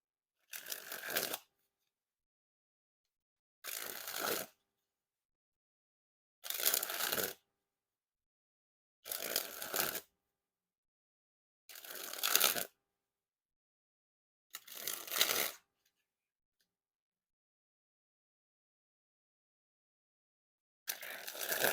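GraveYard playing cards springing from hand to hand, seven separate bursts of rapid fluttering riffle, each about a second long and separated by quiet pauses, close and clear.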